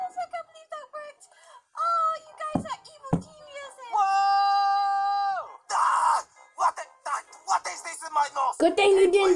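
Children and teens scream and shout in loud, shrill bursts while reacting to a Godzilla versus Mechagodzilla fight, with one long sustained high wail in the middle and excited yelling and groans around it.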